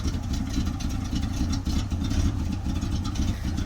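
A Chevy square body dump truck engine idles steadily and loud up close, a continuous low rumble with a slight uneven pulse throughout.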